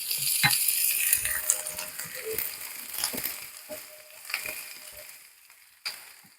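Sliced onions sautéing in a pan, a close sizzle that fades gradually, with a few sharp utensil clinks and scrapes as the onions are stirred, and no voices.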